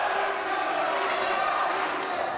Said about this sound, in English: This crowd now chanting for the IwW International Heavyweight Champion